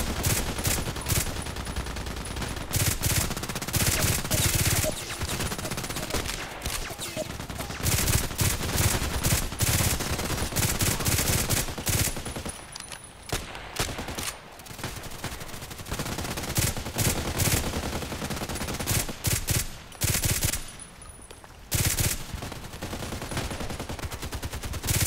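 Repeated sharp gunshots from a sniper video game ring out loud and close across the whole stretch, with rapid bursts and scattered single shots and only short, quieter gaps between them.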